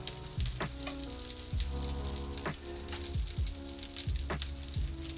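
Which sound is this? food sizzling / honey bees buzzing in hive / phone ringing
food sizzling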